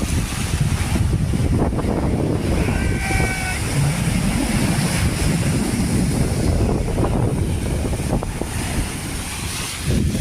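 Strong tidal sea waves at Pentha beach roar in a constant, loud wash, heavily mixed with gusty wind buffeting the microphone.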